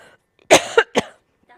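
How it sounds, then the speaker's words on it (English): A few sharp, close coughs in quick succession, loud against near silence. "I'm going to cough"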